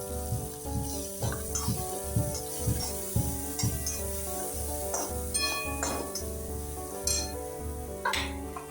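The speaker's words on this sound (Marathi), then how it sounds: "हे बघा आता आपण फोडणी बनवतोय बर का." Cumin and ground chilies sizzle in hot oil for a tempering for upma, a lively frying hiss punctuated by rhythmic stirring scrapes and small clinks of a spoon against the pan.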